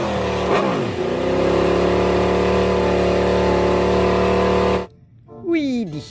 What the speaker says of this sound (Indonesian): ini motor balap.